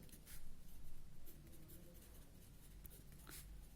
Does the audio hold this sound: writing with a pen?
yes